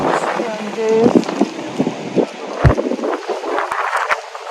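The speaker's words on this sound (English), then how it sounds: "it's getting cold out here. It's very windy." Gusty wind roars and buffets the microphone outdoors, with a person talking over it and a few sharp bumps.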